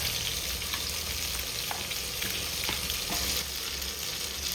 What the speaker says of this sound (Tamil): வெங்காயம் தக்காளி வதங்கிறது